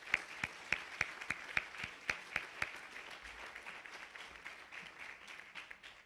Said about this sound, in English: one more time give all of the presenters a round of applause